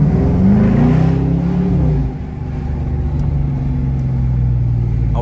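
A Dodge R/T engine hums and rises in pitch as it accelerates at night, steady and close, with a continuous low rumble.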